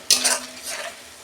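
A spice paste is stirred and fried in a pan for the gourd and prawn dish, heard as a short scrape and sizzle burst close up that fades quickly.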